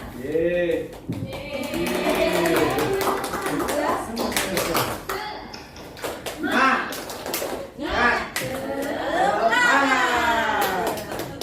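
A group of teachers and participants performs a rhythmic clapping chant, tepuk semangat, in an Indonesian school-culture session, with sharp clap bursts woven between loud spoken and sung chant lines.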